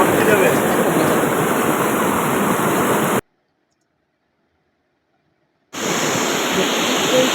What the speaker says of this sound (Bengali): আর জলের আওয়াজটা একবার শুনে তোমরা তাহলে বুঝতে পারবে।